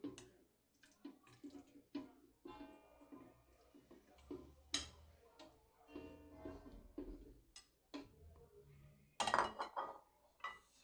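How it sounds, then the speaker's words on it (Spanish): Blackberries dropped into a blender jar while making a mixed-berry milkshake, giving a series of short, close clinks and soft thuds against the jar, spaced irregularly with quiet gaps between them. "Incorporar a la licuadora la mora."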